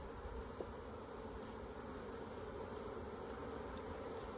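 Honey bees drone in a steady, dense buzz while a package colony is installed into a hive with wax frames, a continuous close hum with no talking.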